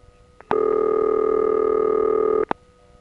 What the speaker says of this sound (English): It's a little fast for rotary dialing.